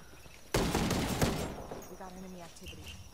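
A sudden, loud burst of gunfire from a Ghost Recon tactical shooter match, with a dense volley at first that thins into scattered shots and echoes. Voices chatter faintly in the background.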